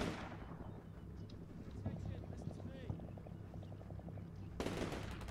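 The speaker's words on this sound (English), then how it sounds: "Incoming fire back." Incoming gunfire in the video game Combat Mission Shock Force 2: regular rapid bursts of shots at a distance, ending in a louder crack, with talk over the battle noise.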